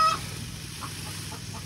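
Chickens cluck on a farm near a chicken coop, a few faint, scattered clucks over a steady low hum, with no talking.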